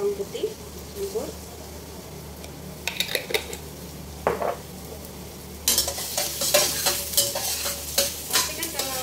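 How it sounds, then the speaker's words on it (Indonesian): Shallots and garlic stir-fried in a pan for pineapple fried rice give a hiss of sizzling, with utensils scraping and clanking against the pan. A louder burst of frying comes later, and a voice talks at times. "kita masuk bawang merah, bawang putih, campur"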